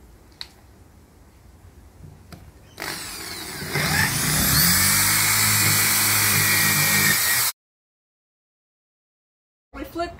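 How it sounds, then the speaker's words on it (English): A power drill with an 8mm bit whines loudly for several seconds while drilling a basketball backboard, rising in pitch as it bites in, then cuts off abruptly; quieter clatter before and a brief burst after. "we're going to use a power drill to drill these"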